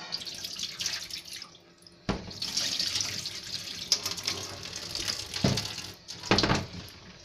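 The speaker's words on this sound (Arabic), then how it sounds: "هنا كده انا هشطفها بقى مطرح الكرور" Tap water runs and splashes onto a meat and vegetable cutting board being rinsed in a sink: a steady, close gushing stream with brief breaks as the board is moved under it.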